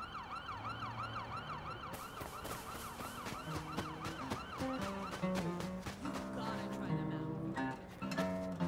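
An ambulance siren from the Watch Dogs 2 video game wails steadily, then switches to a faster yelp pattern, loud and sustained under brief voices and game noise.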